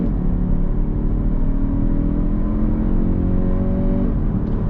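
Engine of a 2022 Kia Stinger GT-Line rear-wheel-drive sport sedan drones steadily under acceleration, tones climbing gradually then dropping once near the end as the transmission shifts, heard loud and close from the cabin.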